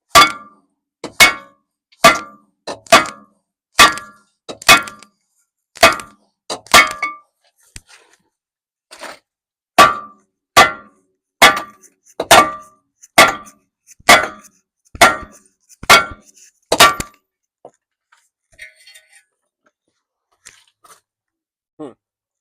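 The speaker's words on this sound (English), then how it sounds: "I got a bigger hammer. So let's see what we can do now." A large hammer strikes metal on a Jeep Cherokee in a steady series of loud, ringing clangs, about two per second, pausing briefly midway and then stopping.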